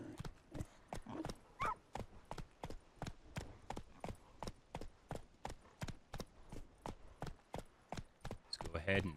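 Hooves of the horse Roach in the video game Witcher 3 clip-clopping in a steady, evenly spaced trot, distinct close hoof strikes with a brief snort or whinny, and a voice briefly speaking.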